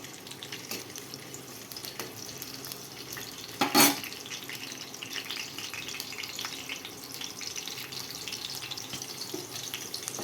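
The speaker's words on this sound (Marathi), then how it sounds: "इथं दोन चमचे दोन पाळ्या तेल घेतलेलं आहे त्याच्यामध्ये आपल्याला घालायची आहे हिरवी मिरची कट केलेली आणि ही मिरची आपल्याला तळून घ्यायची आहे" Cut green chillies frying in two spoons of oil, a continuous faint crackling sizzle throughout, broken by one brief louder burst of spluttering near the middle.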